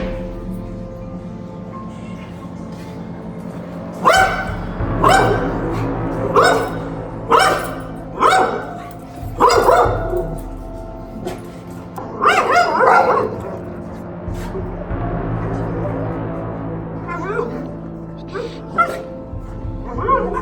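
Dog reacting around other dogs and people, giving a series of sharp barks, yips and whimpers in irregular bursts over a low background hum, fairly close and loud.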